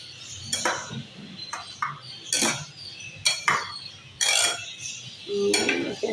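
A spoon stirs jelly cubes through a dessert in a bowl, making intermittent clinks and knocks against the dish in an irregular rhythm, close up and fairly clear, with soft scraping between strikes.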